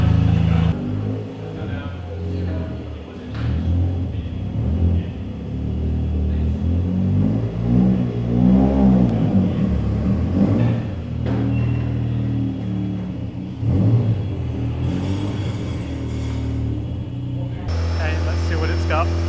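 A rotary-engined Mazda MX5 revs hard through a power run, its rumbling engine note rising and falling over about twenty seconds, loud and close, with speech over parts of it.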